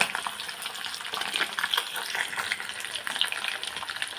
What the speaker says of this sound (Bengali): মাছ আমার ভাজা হয়ে যাচ্ছে সবগুলো